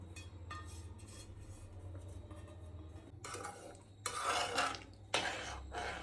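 A spoon works through a vermicelli kheer mixture with milk powder, giving soft, faint scraping at first, then louder rasping scrapes near the end.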